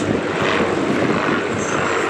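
Propeller-driven vintage aircraft with a piston engine and two-bladed fixed-pitch wooden propeller flying at the Duxford Flying Legends airshow, a loud continuous drone with steady broadband roar, no voices.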